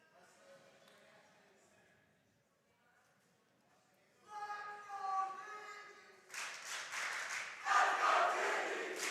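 A high school wrestling match crowd cheers, quiet murmuring at first before the cheering swells loudly and becomes a sustained roar, with a commentator speaking beneath it.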